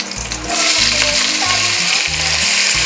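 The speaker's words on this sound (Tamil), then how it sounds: "இப்போ நம்ம வெங்காயம் சேர்த்துறலாம்" Sliced onions hit hot oil with ginger, garlic and green chillies for a Malabar prawn biryani, a loud continuous frying sizzle close up with occasional stirring scrapes.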